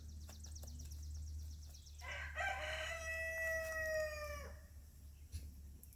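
Backyard chickens cluck faintly in the background, then a rooster lets out one long, clear cock-a-doodle-doo at moderate distance over a steady low hum in a garden setting.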